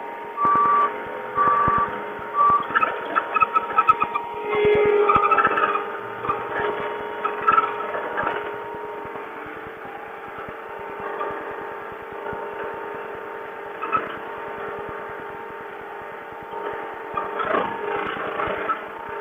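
A John Deere 323D skid steer at work, its engine humming steadily with a short string of reversing beeps at the start and mechanical rattles and clunks throughout, heard fairly close and loud, with no talking.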